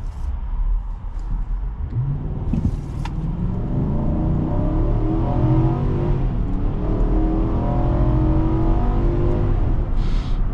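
A 2024 Infiniti QX80 pulling hard from inside the cabin, its engine a loud, steady low rumble that climbs in pitch as it accelerates through the gears, with no voices over it.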